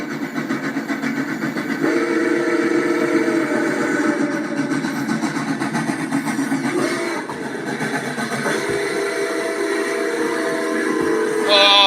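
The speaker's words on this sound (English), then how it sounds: "the train ringeth, bloweth the whistle" A train passing nearby with its whistle blowing in long tones over the rumble and hiss of the rails, loud and steady throughout.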